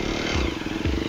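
Motorcycle engine running steadily at close range, a low throbbing drone with two brief swells in revs over a little over a second, no voices.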